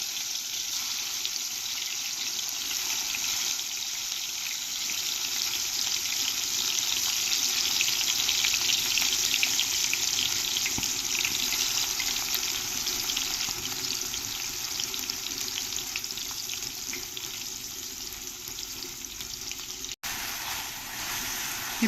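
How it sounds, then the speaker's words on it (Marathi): Jackfruit pieces frying in hot oil, a dense continuous sizzle and crackle that swells slightly then eases, close and fairly loud, with no talk. "या तेलामध्ये हे जे फणसाचे काप आपण केलेले होते फोडी, या सगळ्या आधी तळून घेऊया।"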